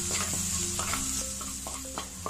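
Onions sauté in oil in a pan with a soft steady sizzle, while a spoon stirs and scrapes against the pan in repeated strokes close by.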